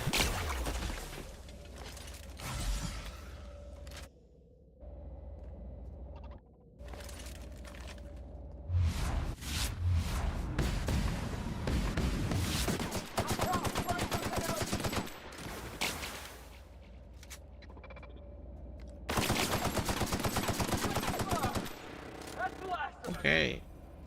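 Rapid automatic gunfire bursts at an armored enemy in The Outer Worlds, loud and repeated in several long volleys mixed with game effects and someone talking.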